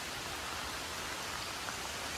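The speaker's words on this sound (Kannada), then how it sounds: "ಮಳೆ ಹೆಂಗ್ ಬರ್ತಿದೆ ಅಂದ್ರೆ ಅಯ್ಯಪ್ಪ" Heavy monsoon rain pours near Jogigundi Falls in Shimoga, Karnataka, as a dense, steady hiss of falling water, fairly quiet and unbroken throughout, with no voices.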